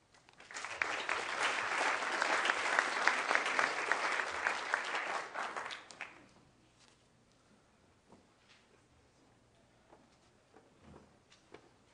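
An audience at a university winter symposium breaks into applause that swells, holds for about five seconds and then stops abruptly, leaving only faint room noise and the odd shuffle.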